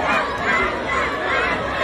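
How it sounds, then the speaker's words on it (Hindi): Loud crowd at a live event shouting and chattering together in a dense, continuous roar, a fan chant for actress Priyanka Chahar Choudhary swelling and holding steady throughout. "भीड़ चिल्लाने लगी प्रियंका चहर चौधरी का नाम"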